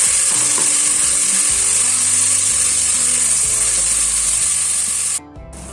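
Onions and tomatoes sizzle in hot oil in a pot for chicken pulao, a loud continuous hiss with stirring scrapes that cuts off abruptly near the end.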